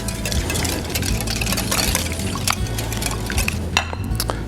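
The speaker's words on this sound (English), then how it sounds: "You're going to whisk that all together." Custard with vanilla whisked in a bowl, a steady busy scraping and sloshing of liquid against the sides running without pause, close and fairly loud, with no talking.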